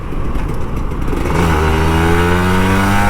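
Older Kawasaki Ninja RR 150 motorcycle engine, loud and close, its throttle opening partway through so the pitch climbs steadily into a rising rev.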